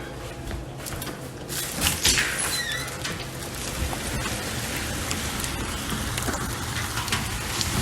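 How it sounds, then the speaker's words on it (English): Steady rain pours during a rainstorm, with a dense, loud hiss of drops drumming on surfaces throughout and no voices. "We got a rainstorm."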